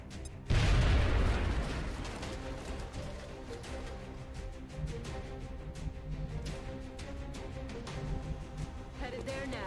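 Grenade explosion in XCOM Long War, a sudden loud boom followed by a fading rumble, then a long stretch of repeated gunfire bursts under game combat music.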